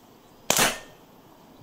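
A gas canister-powered gun fires a single sharp shot, a close, loud hissing crack that fades over a fraction of a second, alone against quiet outdoor background.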